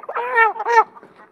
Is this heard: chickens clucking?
yes